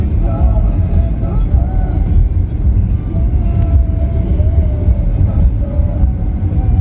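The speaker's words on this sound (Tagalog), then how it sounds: "kita nyo yan guys kung gaano kahaba yung train. CN train yan." A long CN freight train rumbles past at close range, a loud continuous low roar with wheel squeals and clanks throughout, with someone speaking over it at times.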